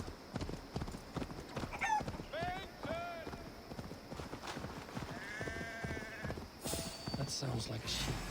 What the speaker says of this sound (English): That sounds like a sheep, and not a happy one.